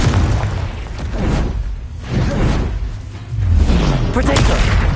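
Confringo explosive spell in Hogwarts Legacy, heavy booming blasts with whooshing bursts in a chaotic spell-filled fight, loudest near the end, mixed with other combat noise.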